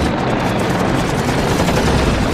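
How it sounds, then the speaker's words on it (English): Savage bursts of .50 caliber machine gun fire from fighter planes attacking Japanese bombers in a WWII air battle, a dense, continuous roar of rapid gunfire that stays loud throughout, with no pauses or voices. "ripping up Japanese bombers with savage bursts of 50 caliber machine gun fire"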